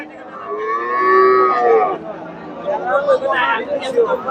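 A cow gives one long, loud moo at a crowded cattle market where a local cow stands with a bull calf, followed by busy chatter and voices.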